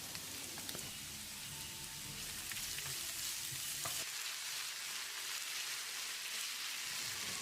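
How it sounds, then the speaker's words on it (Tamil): Chopped onion and curry leaves sauté in hot oil in a pan for shredded chicken fry, giving a steady, close sizzle and crackle that runs throughout with no voices. "வெங்காயத்தை லேசாக செவந்து வர்ற அளவுக்கு வதக்கிடலாம்."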